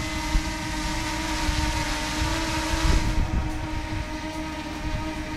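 A repaired DJI Mini 2 drone runs its propellers on a calm day, a steady close whining hum with tonal motor pitches and a slight swell near the middle, without any talk.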